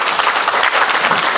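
An audience at a talk on extremism in Malaysia gives Dr. Rozaimi loud, dense, steady applause, with no voices over it.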